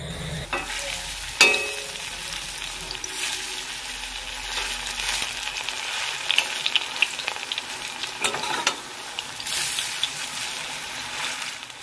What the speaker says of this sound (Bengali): বেশ কিছুটা হিংচের বড়া ভাজা হয়ে গেছে লাস্টেরগুলো ভাজছি